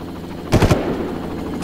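A quick close burst of three or four gunshots in Far Cry rattles out in under half a second, loud against quiet ambience.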